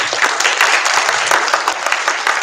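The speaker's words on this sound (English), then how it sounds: "let's start with a round of applause" An audience applauds science bee finalists standing on stage at a national championship, a dense burst of clapping that stays loud and steady for the whole stretch.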